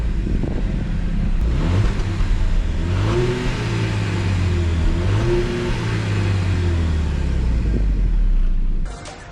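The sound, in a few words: Jaguar F-Pace 2.5t engine and exhaust note accelerating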